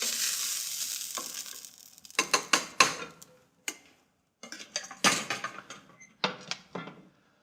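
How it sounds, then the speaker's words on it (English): Browned veal pieces dropped into a pot with liquid and vegetables, giving a series of close clattering, splashing and scraping bursts separated by short pauses. "I'm going to introduce the veal, nicely browned, directly into the pot with the liquid and the foundational flavors of vegetables."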